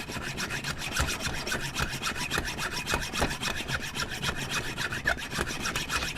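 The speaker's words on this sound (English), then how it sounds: "I've got to hacksaw into that and prise that off" A hacksaw cuts into a metal part of a 2-stroke engine, rapid, even back-and-forth strokes repeating steadily and close by with no pauses and no voices.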